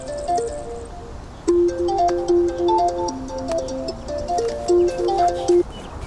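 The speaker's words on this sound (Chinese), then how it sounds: "陈先生，您电话？ 谁打的？ 是个座机， 不接" A landline call shows up as a phone's melodic ringtone, a run of short electronic tones that repeats in a steady pattern, clear and fairly close in a quiet room.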